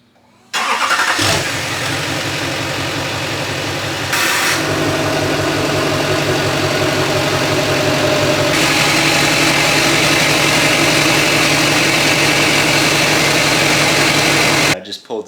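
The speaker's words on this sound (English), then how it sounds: "I just pulled the truck in." A truck rolls into a paint shop and settles into a steady, close idle with an even low rumble that runs nearly the whole time, briefly cut off near the start before resuming.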